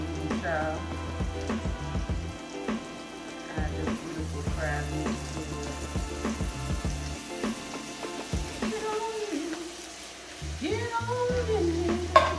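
Vegetables and crab meat sizzle in a pan as they warm through, a steady crackling fry broken by scraping stirs, fairly close and moderate in level with no talk.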